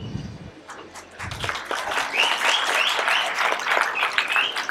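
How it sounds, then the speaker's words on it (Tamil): An audience at a Tamil public speech bursts into applause, a few separate claps at first building into sustained, fairly loud clapping from a large crowd. "இந்த அவை தான் உடனே கைத்தட்டுது."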